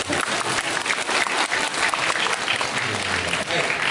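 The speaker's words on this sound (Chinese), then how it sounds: "感谢各位热情的掌声" Loud, dense applause from a theatre audience at an evening crosstalk comedy performance, steady rapid clapping filling the room without a break.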